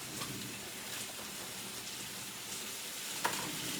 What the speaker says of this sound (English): give these mushrooms a moment to sweat and get some of that moisture cooked out